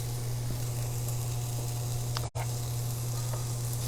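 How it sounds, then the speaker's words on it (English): Food sizzling in a pan with a daub of butter, a steady close hiss with a brief cut midway, and no talking. "I'm going to right now pop them back in the pan, but I'm going to put a daub of butter in there."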